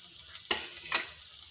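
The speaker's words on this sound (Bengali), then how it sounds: "একটু ভেজে নেবো হচ্ছে এবার দিয়ে দিচ্ছি কাঁচা লঙ্কা কুচি" Chopped green chillies and onion fry quietly in a pan, with two quick spatula scrapes cutting through a faint, steady sizzle.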